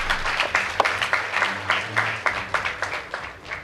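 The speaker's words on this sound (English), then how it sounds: "Please give them a round of applause" Scattered, fairly quiet clapping from the audience at a school debate, honouring the Upperhill High School team, with individual claps standing out irregularly over a low background hum.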